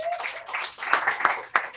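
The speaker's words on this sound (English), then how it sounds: "Keep clapping, guys." Attendees at a team meeting clapping, scattered claps mixed with voices and chatter, a few sharper hand claps standing out briefly.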